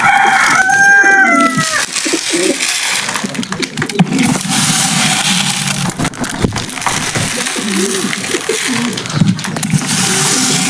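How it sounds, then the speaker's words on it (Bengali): On a poultry farm, a rooster crows loudly near the start while hens cluck and fuss steadily through the rest, with no talking. "আমাদের সকল মুরগি ডাক দেওয়া শুরু করো"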